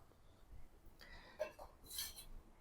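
Lid of a curd container being opened, quiet scraping followed by a couple of light clinks and a brighter metallic rattle, close and soft.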